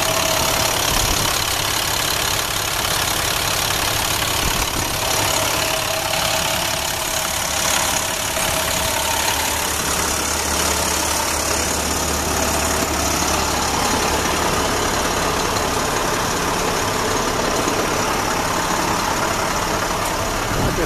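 A 2010 vehicle towed in with electrical issues idles steadily after a jump start, a continuous, fairly loud mid-pitched engine rumble with a faint knock, running alone and unchanged throughout.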